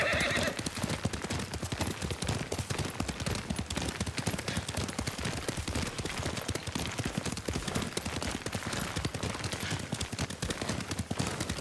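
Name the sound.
horse hooves while riding in Ghost of Tsushima video game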